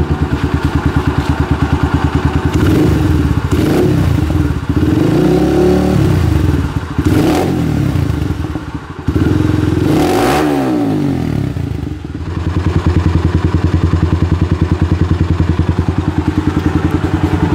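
A Honda Nova Sonic RS 125 motorcycle engine idles steadily, then revs up sharply several times in quick bursts before settling back to a loud, even idle.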